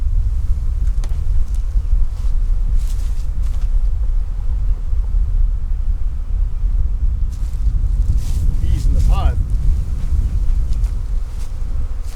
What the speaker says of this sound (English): There's a bunch of bees trying to get out of here.